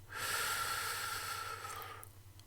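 A single deep inhale, a close, even rush of air through the nose lasting about two seconds before stopping, heard alone in a calm, quiet setting during a guided breathing exercise.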